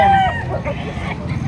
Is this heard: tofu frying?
no